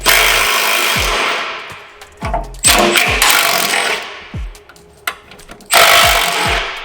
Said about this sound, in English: We use a cordless driver to do it to make our lives a lot easier.